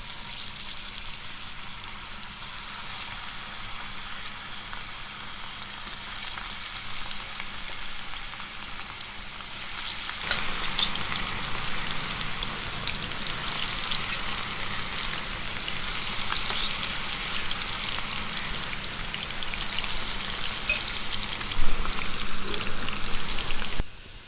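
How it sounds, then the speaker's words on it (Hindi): Chicken pakoras fry in hot oil over a medium flame, a steady close sizzle and crackle that grows louder and busier partway through, with no talking. "अब हम चिकन पकौड़े जो हैं इनको फ्राई करेंगे।"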